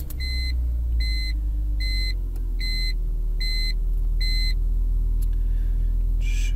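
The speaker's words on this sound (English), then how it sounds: "if we turn the car on," A BMW car starts up: six evenly spaced dashboard beeps chime over a loud, low engine rumble that settles into a steady idle.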